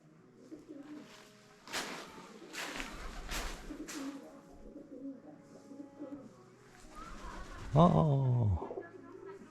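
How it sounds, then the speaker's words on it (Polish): Pigeons coo in a cave used as a dovecote, with several bursts of rustling and flapping early on and one clear, close, low rolling coo near the end, all heard in an echoey space. "gołąbki sobie tutaj mieszkają i gruchają"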